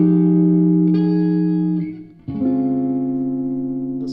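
Sustained electric guitar chords from a Fender Tone Master Pro ring out with heavy reverb, a brief dip and swell midway, then a new chord blooming with a long washy tail.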